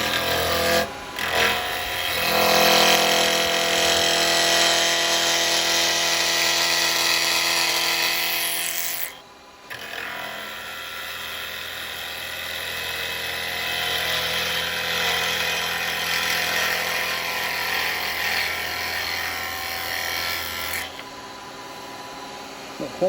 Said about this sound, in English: Right, we'll use this spindle gouge this time.